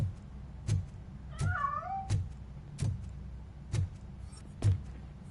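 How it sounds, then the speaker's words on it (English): A cat meowing in a RoboCop video game, one drawn-out wavering meow among a series of regular sharp thuds or footsteps, clear and alone without talk. "That cat must be hiding inside."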